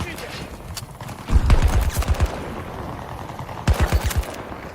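Rapid bursts of VCAR rifle fire in a shooter video game, two loud volleys of quick repeated shots with a pause between, set against battle noise and voices talking.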